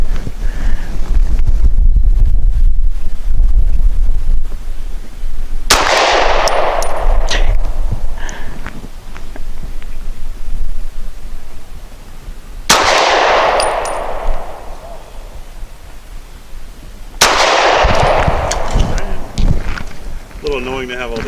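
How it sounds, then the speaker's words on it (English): Shots from a Springfield XDe 9mm pistol firing Hornady 100 grain Critical Defense ammunition come outdoors as a few loud, sharp cracks spaced seconds apart, with wind noise on the microphone and people talking between them. "Target number 3, I'm shooting the Hornady 100 grain critical defense light."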